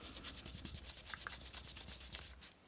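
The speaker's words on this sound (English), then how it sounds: "just going over it very lightly again with the sandpaper" Sandpaper rubbed lightly over painted, gesso-coated journal paper, soft rhythmic scratchy strokes repeating steadily, quiet and close, with a sharp tap at the end.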